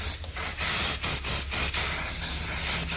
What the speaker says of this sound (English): Now giving that another light spray